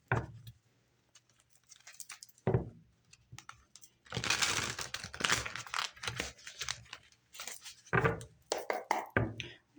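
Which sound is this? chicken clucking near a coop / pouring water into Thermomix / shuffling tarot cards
shuffling tarot cards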